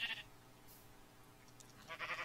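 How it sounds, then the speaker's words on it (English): Sheep bleating in Minecraft, a couple of short, faint bleats at the start and end with quiet background in between. "Come back here, you sheep!"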